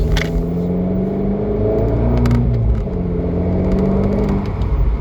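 A turbocharged petrol Abarth 595C MTA Turismo growls loudly up close, its engine note rising and falling through revs with a deep rumbling exhaust and no talking.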